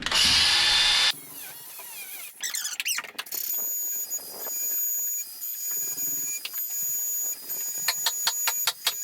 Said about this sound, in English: I'm going to take my hammer drill bit, and I'm going to drill a series of holes